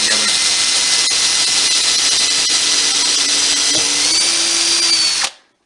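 A power drill runs continuously into wood during cabinet trim work, a loud close whine with a steady high hiss for about five seconds before cutting off abruptly.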